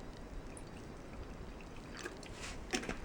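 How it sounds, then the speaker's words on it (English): Water pours quietly into a cooking pot over dry noodles on a trail, a soft continuous trickle with a few brighter splashes near the end, close and faint. "put enough water in just to cover my noodles"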